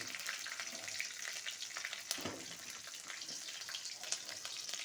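Green chillies and spices sizzle in hot oil for a Bengali pui shak vegetable curry, a steady dense crackle with scattered sharp pops and a brief stir near the middle, with no voices.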